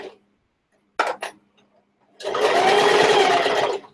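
A sewing machine runs a straight stitch across the bulky corner of a fabric box pouch in one steady burst of about a second and a half, preceded by a couple of short mechanical clicks.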